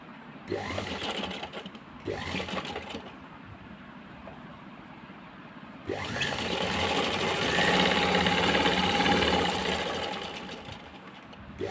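A sewing machine stitches the edges of a handmade cloth bag in rapid mechanical bursts, two short runs and then one longer steady run that swells and fades. It is close, with no talking.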